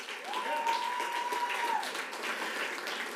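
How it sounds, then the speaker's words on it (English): Audience applause at a Muscogee County school board meeting, honoring emerging PBIS schools; fairly soft, diffuse clapping continues throughout while a voice speaks briefly over it. "Let's give another round of applause for all of our emerging PBIS schools."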